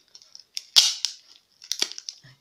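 Packing tape pulled and pressed on, sharp close rips and crackling bursts in two clusters with brief quiet between.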